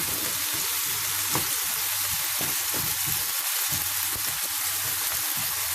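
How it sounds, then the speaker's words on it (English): Constant close sizzle of vegetables and onions frying in a pan for upma, with soft scraping and stirring taps throughout and no voices. "keep frying this till everything, all the veggies and the onions, everything have nicely cooked here."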